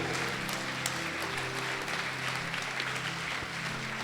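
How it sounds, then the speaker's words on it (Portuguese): A church congregation applauds during a sermon on Passover and the new covenant, a steady mid-level round of clapping with faint crowd murmur and a low sustained tone underneath. "Você pode aplaudir a Jesus."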